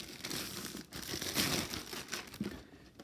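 Plastic bag from a Super7 Ultimates Teenage Mutant Ninja Turtles Michelangelo figure crumpled in hand, close and fairly quiet, continuous crinkling for about three seconds with no talking.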